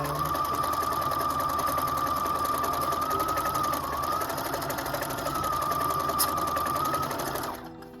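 A Husqvarna Viking #1+ sewing machine stitches a quilting stitch, its steady motor hum and a thin high whine running evenly for about seven seconds before it stops near the end.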